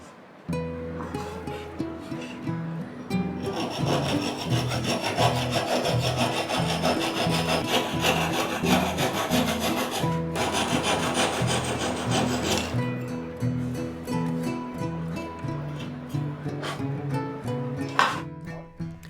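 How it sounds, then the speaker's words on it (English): Rhythmic, rasping strokes of sanding on wood, close and steady, back-and-forth scraping continuing for most of the time with brief pauses. "Sanding flush to the sides"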